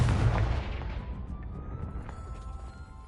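A Confringo spell blast in Hogwarts Legacy bursts loud at the start, then its rumbling boom decays and fades out over about three seconds.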